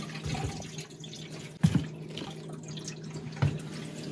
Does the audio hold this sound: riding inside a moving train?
no